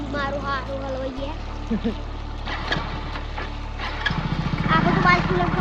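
A motorcycle engine drones steadily nearby on a village road, its note briefly cutting out and then rising into a louder, pulsing rev toward the end, with voices talking over it.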